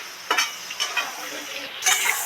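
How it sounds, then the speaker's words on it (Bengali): Eggplant and pointed gourd deep-frying in mustard oil make a continuous bubbling hiss, broken by a few louder bursts as the pieces are stirred and lifted. "এইভাবে ডিপ ফ্রাই করে সব করে বেগুন আর পটলটা ভেজে নিলাম"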